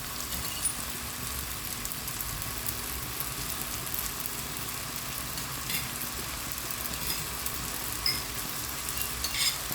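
Soy sauce goes into stir-fried rice vermicelli with fresh vegetables in a hot pan, giving a steady, close sizzle with light crackles and stirring scrapes that runs evenly for about ten seconds, with no talking.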